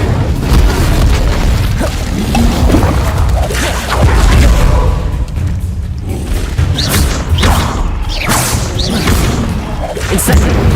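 Incendio fire spell in the Hogwarts Legacy video game, a continuous loud rumbling blast of flames and booming impacts that fills the whole stretch, with a few sharper bursts and faint voice-like sounds in the mix.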